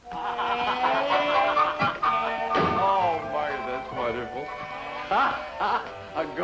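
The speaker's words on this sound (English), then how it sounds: "But a goat in the house." A goat in a house in a 1950s sitcom, bleating in several wavering, quavering calls near the microphone, mixed with and partly under people's speech, with a slam-like knock midway.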